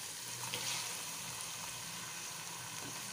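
Tomatoes and green chillies go into a pan over garlic-ginger paste and fry with a steady, soft sizzle, fairly faint and with no talk over it.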